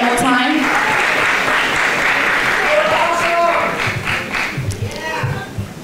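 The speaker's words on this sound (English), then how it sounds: "Can we give a round of applause for our contestants?" A pageant audience applauds the contestants with loud, sustained clapping, mingled with voices and cheers that thin toward the end.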